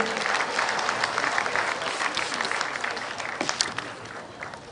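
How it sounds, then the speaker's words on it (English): A school audience applauds the headmistress of Wanyange Girls Secondary School at a community event, with steady dense clapping throughout and a faint murmur of the crowd underneath. "Ladies and gentlemen, a round of applause for the headmistress of Wanyange Girls Secondary School."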